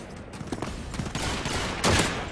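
Dense gunfire from the World War II shooter Call of Duty 2 crackles in overlapping rapid bursts, loud and continuous, with a heavier volley near the end and no talking.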